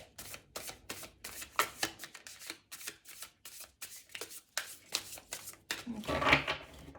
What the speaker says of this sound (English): Give the deck one last shuffle.